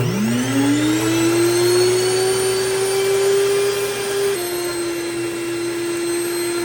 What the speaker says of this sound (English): so I'm just gonna turn it on, and then it will start milling my wheat for me